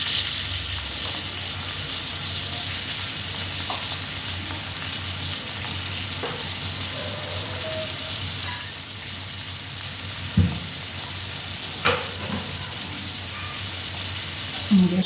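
Food frying in a pan, heard as a continuous close crackling sizzle like rain on a surface, with a few clinks and knocks of a utensil and a voice talking faintly now and then.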